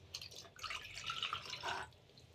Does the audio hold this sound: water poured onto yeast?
yes